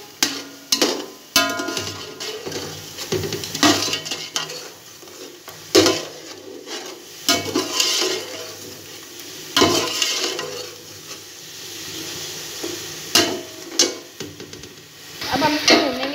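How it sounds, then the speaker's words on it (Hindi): Red chili being stirred into pulao masala in a pan, close and loud, with repeated metallic spoon clanks and scrapes against the pan over a continuous frying sizzle, no voices. "Red chilli, to table spoon हम इसको मिक्स करेंगे।"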